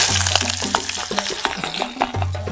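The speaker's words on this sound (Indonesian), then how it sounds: "sekarang kita bakal tumis dulu si bumbunya" Spice paste sautés in hot oil, giving a loud, close, continuous sizzle broken by quick stirring scrapes.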